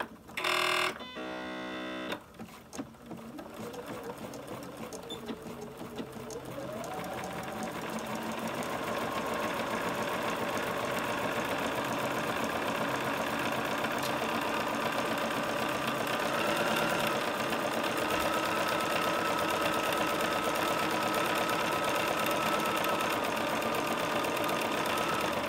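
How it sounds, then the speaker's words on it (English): A sewing machine runs a zigzag seam on fabric for a notebook cover, starting with a few clicks, then a steady, close whirring hum that builds and holds evenly to the end. "I'm just going to put the needle down and start sewing."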